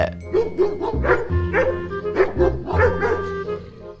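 Two dogs chasing skaters bark and yip in quick, excited bursts. The barking sounds close and repeats irregularly over a steady background.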